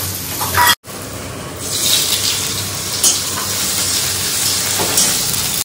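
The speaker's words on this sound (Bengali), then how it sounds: "রান্না বান্নাটা চাপিয়ে দিই। করলা ভাজা হবে।" Bitter gourd frying in a pan on a home kitchen stove, a steady close sizzle with brief crackling bursts and a short break near the start, no talking.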